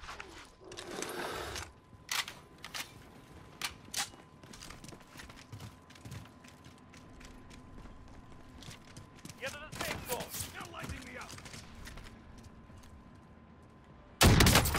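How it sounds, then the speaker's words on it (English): Gunfire in a video game shootout: sporadic sharp shots and short bursts at moderate distance over game ambience, with a loud close burst at the very end. "I'm getting shot from behind."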